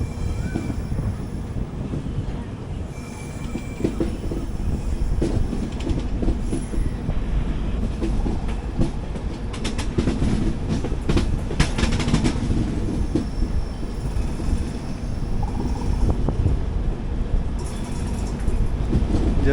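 The 12777 Hubballi Kochuveli Weekly Express running, heard from on board as a continuous rolling rumble with rhythmic wheel clatter and occasional high squealing from the wheels, steady and moderately loud.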